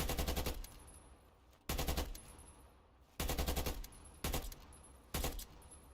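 Gunfire in a competitive search-and-destroy shooter match: loud bursts of rapid automatic fire come in several short separated volleys, each cutting off abruptly, with quieter gaps between.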